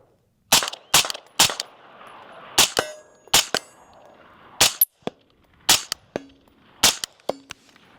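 Suppressed 5.56 rifle shots from a Griffin Armament HRT on a range, about ten sharp, loud cracks fired in quick pairs and singles, some followed by the faint metallic ring of steel targets.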